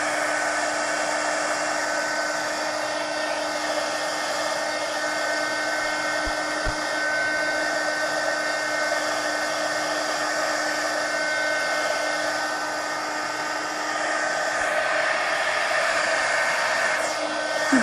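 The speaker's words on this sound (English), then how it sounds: "Let me hit that with the heat gun again." A heat gun blows with a continuous, even whir as it dries damp glue on paper pages. The airflow is close and steady for the whole stretch, with no talking.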